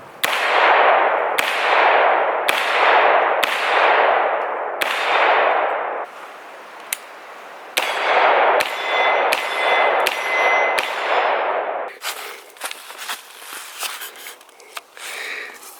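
Frangible .40 S&W rounds fired from a CMMG Banshee strike a steel plate, giving a string of loud, ringing metallic clangs at a steady pace, followed by a quicker, lighter burst of hits that trails off.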